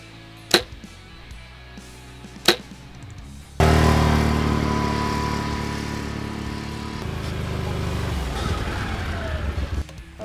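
An ATV engine starts up after two sharp bow and arrow sounds, then idles loudly and steadily nearby on an archery range, its rumble holding for several seconds.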